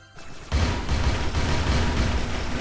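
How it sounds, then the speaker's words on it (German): Loud, dense in-game explosions from Ghost 1.0 erupt after a brief quieter moment and keep rumbling with heavy low booms and crackling debris for the rest of the stretch. "also Explosionen"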